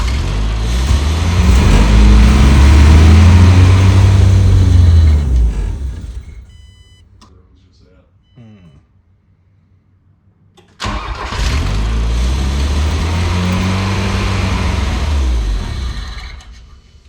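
A Volkswagen Scirocco engine runs loudly and revs up, cuts out to near silence with a few faint clicks, then fires up again and settles into a strong, steady roar.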